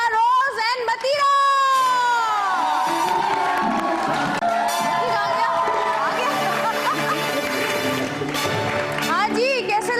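A studio audience on a Pakistani entertainment show cheers and whoops loudly and steadily for the full stretch, with crowd shouting and babble, while music or voices run through it.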